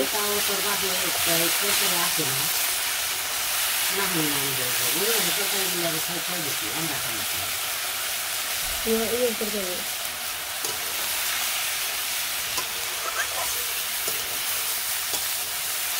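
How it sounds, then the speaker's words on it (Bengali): Vegetables sizzle in a pan on a village cooking fire, a continuous hiss under a voice that talks intermittently through the first half, with occasional soft stirring scrapes. "সবজি আমার ভাজা হয়ে গেছে"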